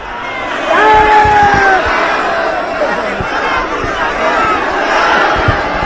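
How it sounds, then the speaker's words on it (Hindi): A crowd gathered for a fallen soldier's arrival chants a patriotic slogan, rising voices swelling into a loud collective shout over steady murmuring babble, fairly near. "लगातार उनकी तरफ से भारत माता की जय के नारे लगाए जा रहे हैं"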